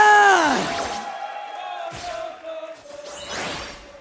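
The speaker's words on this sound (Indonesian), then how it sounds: "Lihat teriakan-teriakan yang sangat luar biasa kali ini" A crowd in the MPL Arena at a Mobile Legends esports match roars and shouts in waves, swelling and fading, with whooshing stage sound effects mixed in. The crowd is loud but sounds slightly distant.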